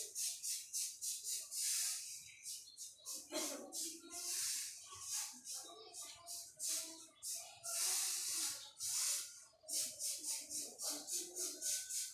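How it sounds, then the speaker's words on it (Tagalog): Spray paint hissing from a can in repeated short bursts, loud and close, with brief pauses and some faint handling noise between sprays. "ito na po yung pinapahid ko eh. Spray paint."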